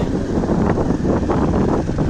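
Cold wind gusts steadily across a microphone on a rough mountain road, a broad continuous roar with no voices.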